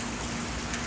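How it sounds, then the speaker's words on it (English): Steady rain with light wind during a tornado warning storm in New Castle, Delaware, a continuous close hiss of falling water without pause, no voices. "Rain, some wind, not a lot."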